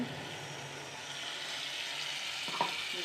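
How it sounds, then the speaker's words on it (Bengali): Spice paste for katla fish curry fries in oil with a soft, steady sizzle, fairly faint, broken near the end by a brief scrape of stirring. "যতক্ষণ মশলাটা থেকে তেল না ছাড়ে ততক্ষণ কষিয়ে যাব"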